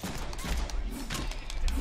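Shotgun blasts ring out in the Deadpool video game on PC, a quick run of sharp, loud shots with a voice talking over part of the gunfire.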